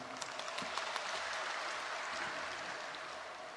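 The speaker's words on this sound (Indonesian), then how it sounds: "Kita berikan tepuk tangan." Applause from an audience at a government coordination meeting on waste management in Bali, a soft, steady patter of many hands clapping at a distance, fairly faint and continuous throughout.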